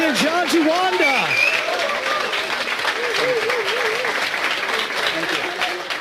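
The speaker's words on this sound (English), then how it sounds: "Let's get a big round of applause for EPT 12 main event champion John Juanda." Audience applause for the champion of a poker tournament main event, steady clapping and crowd noise with voices talking over it throughout.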